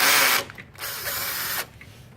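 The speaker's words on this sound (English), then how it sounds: "Next thing we're going to do is loosen this screw that's inside this blue lever." Power driver loosening a screw inside a blue lever on a Toshiba e-Studio copier: two close, loud buzzing whirs, the first short, then a pause, then a second longer burst before stopping.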